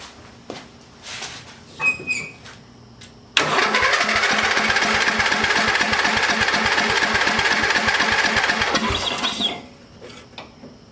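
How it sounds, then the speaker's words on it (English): A free riding mower that had been locked up, its engine cranking after a few clicks and handling noises, then catching and running at a rough, rapid chugging idle for several seconds before cutting off. "I'm gonna turn it, push down the clutch."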